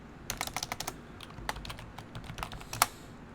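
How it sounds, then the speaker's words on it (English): A password is typed on a computer keyboard while running a command-line installer, with quick close bursts of crisp keystrokes and brief pauses between them. "type in this command and type in my password real quick"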